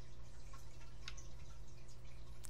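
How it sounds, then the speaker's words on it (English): Water drips in a bathroom in the game FAITH, with a few faint, sparse drips over a steady low hum and background hiss. "It was just dripping, Connor."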